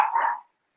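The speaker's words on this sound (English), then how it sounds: "Sorry, dog outbursts." A single sharp, loud dog bark from one of several playing dogs indoors, close by, followed by a brief pause and the faint start of another yelp.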